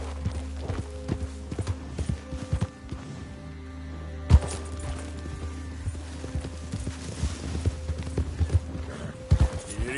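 Horse hooves trotting in the Western video game Red Dead, a steady clip-clop rhythm carried under a constant low rumble of game ambience, with a few sharper thumps along the way.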